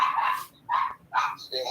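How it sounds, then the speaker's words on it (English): A pet dog barks indoors at a passerby, giving three or four sharp, close yaps with short gaps between them, loud against a quiet room. "It's my dog."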